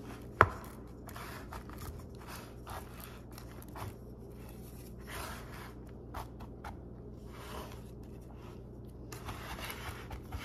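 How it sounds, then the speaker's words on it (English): A spatula pressing smoked salmon cheesecake filling into a springform pan, making soft scraping and squishing strokes, one sharp clack near the start, all fairly quiet with no talking. "we're just gonna squash the filling here up against the walls of the pan."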